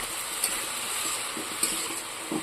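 Fried greens seasoned with cumin, salt, turmeric and chili are stirred in a hot pan, a steady sizzle with a few distinct spoon scrapes and taps, close and alone.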